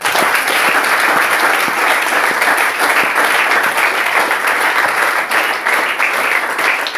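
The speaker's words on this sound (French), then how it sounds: "Applaudissons pour nous." A church congregation applauds together, a dense, steady wash of clapping that stays loud and unbroken from start to finish.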